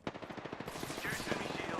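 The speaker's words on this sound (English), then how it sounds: "They're shooting at me." Gunfire in a battle royale video game during an ALGS esports match: rapid, rhythmic automatic bursts give way to a dense, continuous barrage of shots, fairly close and steady.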